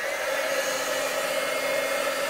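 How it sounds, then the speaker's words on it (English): An embossing heat tool blows hot air onto a paper gable box, giving a steady, even whir with a faint tonal hum, close and constant for a couple of seconds. "Here's my heat tool."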